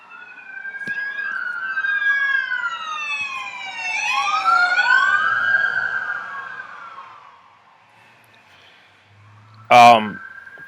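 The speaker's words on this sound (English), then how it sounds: "Sorry about the approaching sirens again." Wailing sirens of emergency vehicles sweep up and down, rising and fading as they pass, followed by a sharp loud knock near the end.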